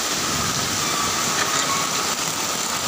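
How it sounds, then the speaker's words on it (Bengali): Heavy overnight rain pours down during a flood in Joypurhat, a dense, loud, unbroken hiss of falling water with no voices. "রাত থেকে বৃষ্টি হচ্ছে"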